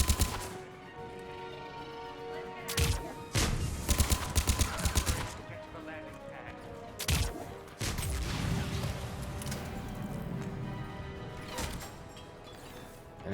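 Sporadic gunfire and impacts in Mass Effect sound out as scattered sharp bursts and crashes over a low game ambience, coming in irregular clusters across the stretch.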